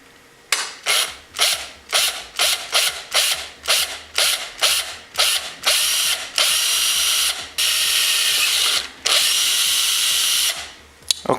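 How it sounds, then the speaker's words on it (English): Power drill boring a pilot hole through a metal enclosure, a series of loud short grinding bursts that lengthen into sustained drilling near the end, close and alone. "I just want to make sure that none of the metal that gets drilled out of here falls on any of the electronic components."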